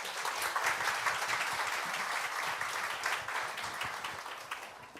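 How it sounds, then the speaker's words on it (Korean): An audience applauds to welcome a pastor to the church pulpit, dense continuous clapping from many hands that holds steady and tapers slightly at the end. "우리 나오실 때 우리 박수로 환영하겠습니다."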